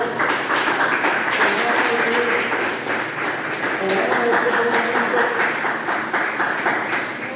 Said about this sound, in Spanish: Le brindemos un fuerte aplauso al Señor.